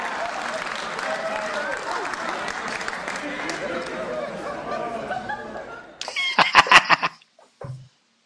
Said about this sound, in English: let's have a round of applause for all of our great performers